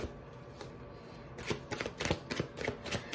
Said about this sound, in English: it's the second time that I've been shuffling this deck specifically for you